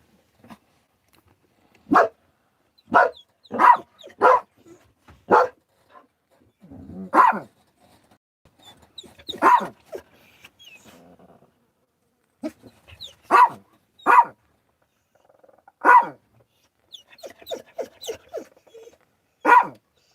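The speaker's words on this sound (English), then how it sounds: "Crazy dog." A dog barks in scattered loud bursts, some in quick runs and others single, with brief pauses and a few softer yips between them, close by and alone outdoors.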